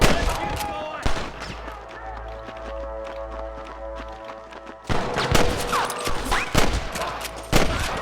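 Gunfire crackles through a shootout in the video game Red Dead Redemption 2, with repeated loud shots in bursts over a low musical drone, followed by heavier clustered firing.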